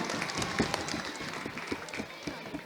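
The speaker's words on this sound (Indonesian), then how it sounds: "Ya, kita kasih tepuk tangan dulu untuk semua regu." Applause for all the teams at a school quiz final in Banda Aceh, with a crowd clapping steadily but fairly quietly, heard from a distance in a reverberant hall.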